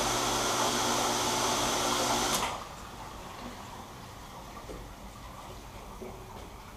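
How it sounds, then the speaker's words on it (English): An electric pump for a water transfer printing dip tank runs with a loud, steady whirring roar, then cuts out abruptly after about two seconds, leaving quiet room tone. "now I'm going to turn the pump on"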